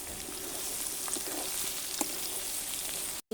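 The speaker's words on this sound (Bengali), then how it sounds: "এই সব রসুন দিয়ে দিয়েছি, পেঁয়াজের সঙ্গে একবার ভেজে বেরেস্তা করে নেব।" Garlic and onions frying in oil until crisp, a steady, fairly loud bubbling sizzle with a few light stirring clicks, heard alone and close before a brief cut at the end.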